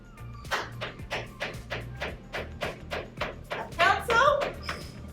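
A pencil tapped for a sound-guessing game, heard as a quick series of light taps, close but fairly faint, with a voice over the end.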